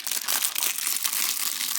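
Crinkly plastic packaging of a blue fidget toy being opened by hand, a steady close run of crumpling and crackling that fills the whole moment, with no talk over it.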